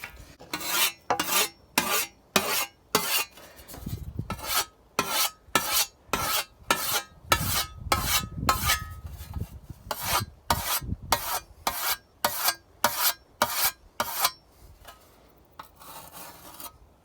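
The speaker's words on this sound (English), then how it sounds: "So I'm gonna scythe it down" A scythe cuts wild alfalfa for hay, with rhythmic, regular swishing strokes, around two dozen close rasping sweeps through dry stalks in steady succession with brief pauses, and no talking.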